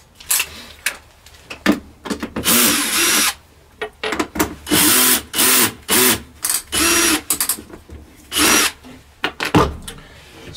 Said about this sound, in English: So I'm gonna loosen all these terminals.